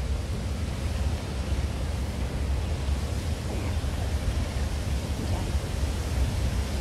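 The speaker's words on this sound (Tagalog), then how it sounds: "Nakaka-relax din panoorin ang ano, fountain na ito." Water fountain in a zoological and botanical garden, a continuous splashing rush that stays even and fairly loud throughout, with no talk.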